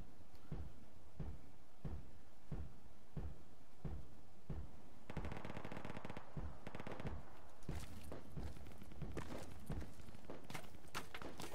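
Light machine gun firing in Project Reality at Al Basrah, fired by a British light machine gunner: sharp evenly spaced single shots about every half second, then denser bursts and scattered distant fire, no talk.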